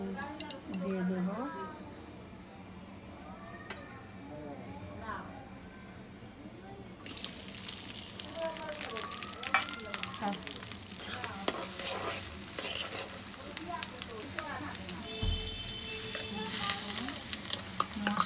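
Chicken meat frying crisply in a pan, a steady sizzle that turns louder and brighter about halfway through, with stirring and clinks, while a person talks over it.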